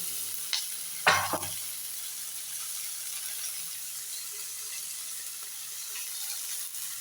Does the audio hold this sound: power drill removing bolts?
no